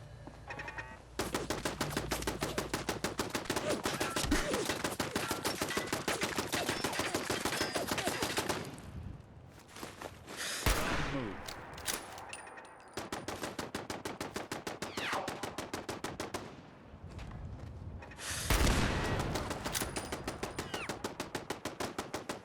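Automated turret gunfire in Fallout 4 with the Horizon overhaul mod, long rapid-fire machine-gun bursts rattling steadily with short pauses and sharper impacts between, fairly quiet overall and without talk.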